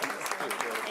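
A brief burst of clapping from the audience at an Oak Ridge city council meeting, steady and moderately loud, with a voice mixed in beneath it.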